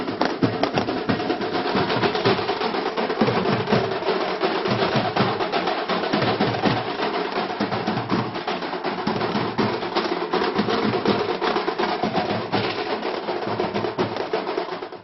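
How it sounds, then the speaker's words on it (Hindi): Loud, steady dhol and nagada drumming pounds in a dense rhythm, filling the whole stretch under a thick festive crowd din at a BJP election victory celebration. "ढोल नगाड़ों का शोर,"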